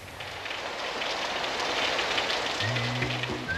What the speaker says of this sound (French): Tout commence par une averse sur le pays de Caux.